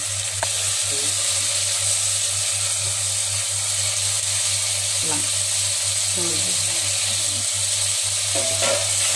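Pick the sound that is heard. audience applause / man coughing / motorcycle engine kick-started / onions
onions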